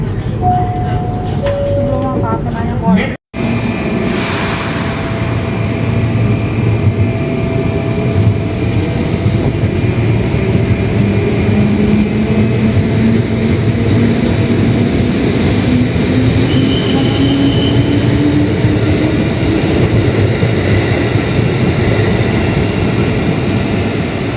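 A train rumbles steadily through Manggarai transit station in Jakarta, wheels grinding and faintly squealing, with a chime at the start and a low rising whine throughout.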